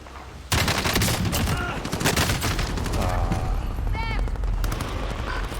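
Rapid bursts of automatic gunfire from the Call of Duty video game, loud and sustained across the clip, with voices talking over the shooting.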